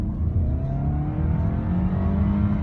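A 2011 Toyota Camry LE drones steadily as its wheels spin in dirt, the engine revving with low, rising and falling tones, loud and close.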